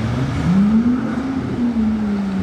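A Ferrari 812 Competizione Aperta V12 engine revs nearby in Monaco, a loud, smooth rising and falling tone that climbs, holds high, then dips and swells again across a couple of seconds with no talk over it.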